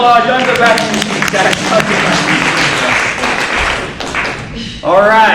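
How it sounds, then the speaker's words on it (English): A bootcamp group exercise class claps for a participant, a dense patter of hand claps lasting several seconds, with voices talking over it at the start and end. "give her a round of applause"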